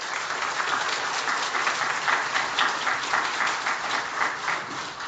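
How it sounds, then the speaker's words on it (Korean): A church congregation applauds to welcome a visiting pastor, with steady, full clapping from many hands filling the room for several seconds. "우리 박수로 환영하도록 하겠습니다."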